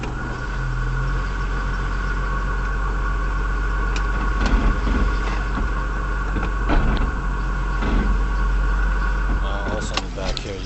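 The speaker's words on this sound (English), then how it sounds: "215 horsepower V6 Isuzu engine" A 1999 Isuzu VehiCROSS 215-horsepower V6 engine with about 193,500 miles idles steadily with a low, even hum and faint mechanical ticking, while someone talks over it nearby.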